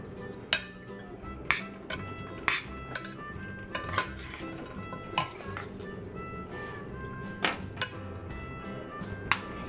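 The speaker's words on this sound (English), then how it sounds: "Miss Christy's gonna take a turn to stir the chocolate and help it melt." A spoon clinks and scrapes against a pot while chocolate and butter are stirred to melt on a stove, producing irregular metallic taps every second or so, fairly faint, with a low background hum.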